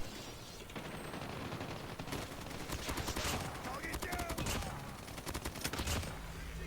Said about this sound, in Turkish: Burada nişan almadan vurursan mermiler çok kötü gidiyor.